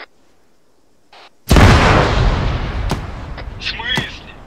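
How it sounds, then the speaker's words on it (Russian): A grenade goes off in the ARMA 3 military game, a sudden loud, close blast that crashes in after near silence and rolls off into a long, ragged decay, with a few sharp crackling pops trailing behind. "Гранату кто-то кинул."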